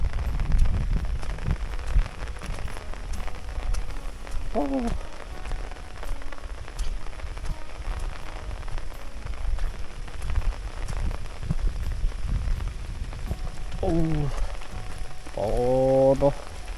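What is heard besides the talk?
rain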